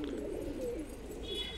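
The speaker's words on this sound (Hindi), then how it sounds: "तो दोस्तों आज हमने खोल रखे हैं अपने सारे कबूतर" Pigeons coo nearby in a soft, low, rolling warble that runs steadily through the moment, with a faint wind-like background and no talking.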